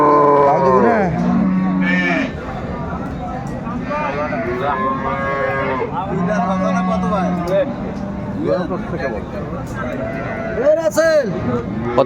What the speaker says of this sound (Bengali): বেশ সুন্দর গাভী বাছুরটি আমরা দেখছিলাম